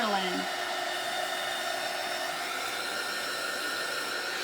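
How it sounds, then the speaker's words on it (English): A hair dryer runs steadily over painted book pages, a close, loud, continuous whirring blow with a high whine that stays constant throughout. "So I'm going to dry it a little bit."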